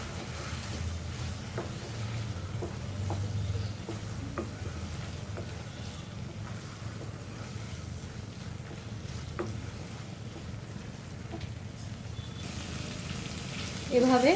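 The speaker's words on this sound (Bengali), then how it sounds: "এভাবে ভালো করে কষিয়ে নিব আমি" Fish bones sizzle in a hot pan, a soft continuous fry with scattered scraping clicks of stirring, fairly quiet and close, ending in a brief louder clatter.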